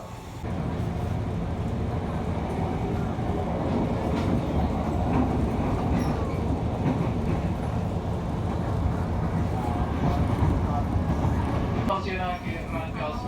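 A KRL Commuterline electric commuter train runs on the line from Bogor to Rangkasbitung, heard from inside as a steady loud rumble and rattle of the carriage. Near the end come sharper clacks and squeals, and speech runs underneath.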